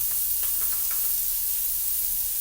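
Half a stick of butter sizzles and hisses in a hot pan, a steady close crackling spray with a few faint taps early on.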